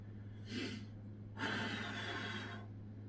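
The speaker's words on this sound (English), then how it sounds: "Breathing deeply." Two faint, deep breaths, a short one and then a longer one, taken while holding an elbow plank during a core workout, close-up over a low steady hum.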